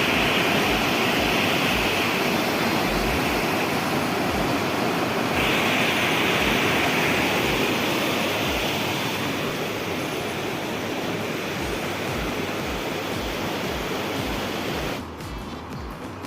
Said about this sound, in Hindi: नदी का पानी देखो, तो आवाज़ से ही पता चल रहा है कि कितना तेज पानी हो रहा है।